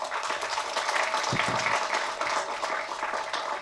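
An audience claps and applauds at an outdoor speech event, a dense, steady wash of clapping that continues for a few seconds with no pause, fairly loud and close.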